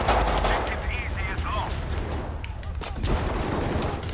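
Dense gunfire from the Battlefield V video game, a loud continuous barrage of overlapping shots and rattling automatic bursts with whistling, zipping sounds through the din, no clear pauses.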